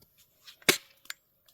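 A single sharp crack from a toy gun stands out against a quiet room, followed by a softer click and faint handling noise.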